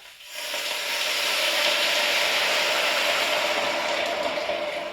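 Red wine hits a hot pan and sizzles loudly and steadily, a dense hiss that holds for several seconds with no talk over it.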